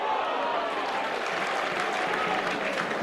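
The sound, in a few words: stadium crowd cheering at a rugby league match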